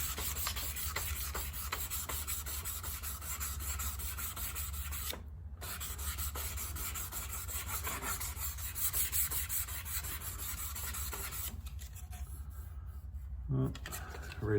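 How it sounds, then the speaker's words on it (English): A sanding block with 1000 grit sandpaper rubs over 1984 Corvette bodywork in a steady, close scratchy hiss of back-and-forth strokes, with a brief pause midway and faint background noise. "gonna go with a block sander with 1000 grit on it, just to get the edges off."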